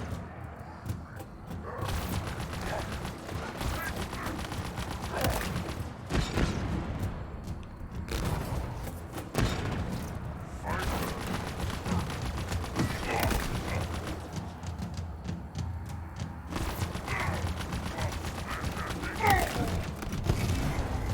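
A turret fires in a Halo Infinite campaign fight as rapid, repeated bursts of gunfire and booms. The shots overlap densely throughout, with no clear pause in the combat noise.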